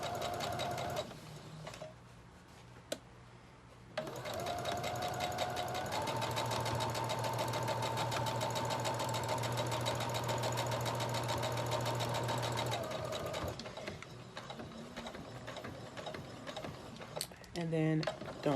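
Sewing machine running steadily while stitching a jacket seam, a continuous whirring drone lasting several seconds after short starts, then stopping; close and fairly loud with small handling clicks around it.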